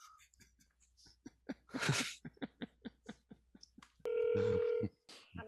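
A telephone rings during a call to a bank, a bell-like electronic ring burst lasting about a second, heard after a stretch of rapid clicks and taps.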